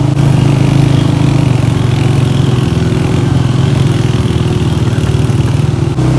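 A motorbike engine on a rough mountain track near Skardu's Bashu valley, a loud, steady low drone with a fast throbbing pulse that runs unbroken throughout, with no voices.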